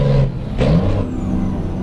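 A truck engine in Truck Simulator (ATS/ETS 2) settles as revs drop during a downshift on an 18-speed box, a steady loud drone with a brief surge and hiss partway through, no talk.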